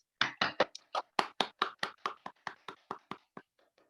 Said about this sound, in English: I know the ghost claps are weird